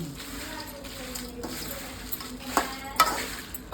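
Dry red chillies roast in a pan for a Telangana garlic chilli powder, producing a soft continuous sizzle under intermittent spatula scrapes and light metallic clinks.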